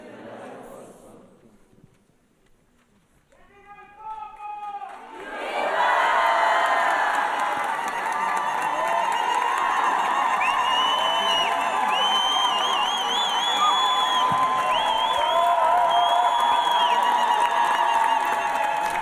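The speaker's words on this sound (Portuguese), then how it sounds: "E os aplausos e aclamações" A crowd at a papal Mass in Istanbul cheering and applauding Pope Leo XIV: after a quiet opening with a few voices, a loud, sustained roar of cheers, whoops and clapping builds and carries on, with shouted voices rising above it.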